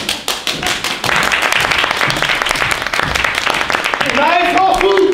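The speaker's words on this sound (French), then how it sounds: "Je vous demande un tonnerre d'applaudissements pour Armelle Sapet." Audience applause welcoming guest authors on stage at a French live show, a dense sustained crowd clapping that builds and stays loud, with voices and a rising whistle or cheer near the end.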